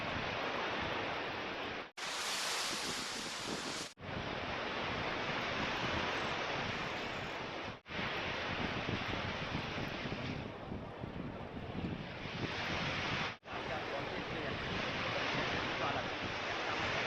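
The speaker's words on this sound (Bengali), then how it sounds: "তবে এখন আমি দেখছি সমুদ্রে মানে ঢেউটা কম আছে" Low surf rolls steadily onto the beach at Dublagadi on a calm sea, a broad continuous wash with heavy wind rumble on the microphone, broken by a few brief dropouts.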